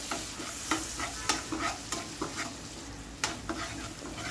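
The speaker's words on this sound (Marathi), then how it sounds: "पाणी टाकून याला फिरवून घ्या." A spoon stirs egg bhurji masala with water in a sizzling pan, repeated scraping strokes about every half second over a constant close frying hiss.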